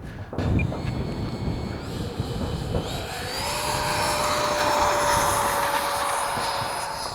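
A Freewing JAS-39 Gripen 80mm electric ducted fan RC jet with thrust vectoring spooling up and taking off, its fan whine rising to a steady loud rushing roar with a climbing high-pitched tone, heard up close outdoors.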